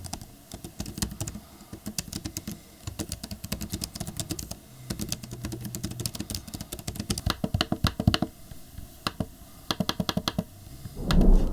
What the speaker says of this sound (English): here's what it sounds like while typing on it.